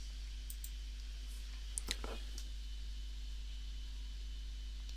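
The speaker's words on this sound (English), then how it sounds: "Then just click on register." Mouse clicks on a register button during a Filr 4.2 database appliance setup: a couple of brief, faint clicks midway through, sitting over a steady background hiss.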